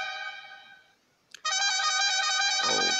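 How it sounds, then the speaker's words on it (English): An air horn effect plays from a mobile sound-effects app: a harmonic blast fades away, then after a brief gap a second, louder blast holds steady, loud and close. "Air horn"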